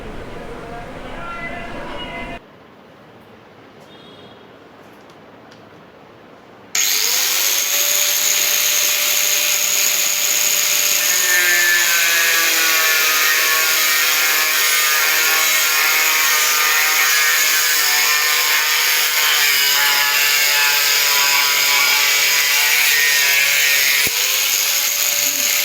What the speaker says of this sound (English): you have seen how I use this grinder to cut the wood